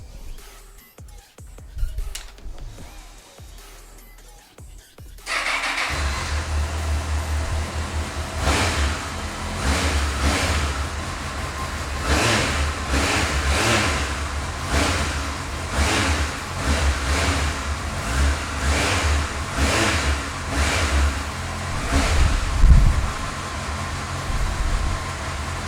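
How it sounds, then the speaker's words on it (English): A Honda CBF1000 motorcycle with about 46,700 miles fires up after a few seconds of quiet handling noises, then settles into a loud, steady idle close by, with repeated throttle blips rising and falling over it. "let's start this up and listen to it run"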